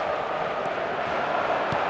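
Stadium crowd noise from the eFootball 2026 video game, a steady broad murmur of spectators that holds evenly throughout with no distinct cheer or surge.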